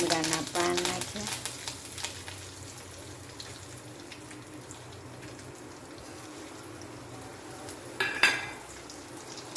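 Cumin seeds and curry leaves sizzle in hot oil for tempering, a steady close frying hiss with a few clatters at the start and a brief knock near the end.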